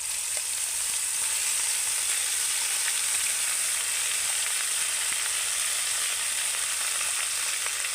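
Spice paste fries in oil for an Afghani egg curry, a continuous bright sizzle with soft stirring underneath, steady and close with no voices.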